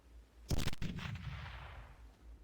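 A heavy explosion in the top-down shooter Teleglitch: a loud, sharp burst with a second crack close behind it, then a long rumbling decay fading over about two seconds, with no talking.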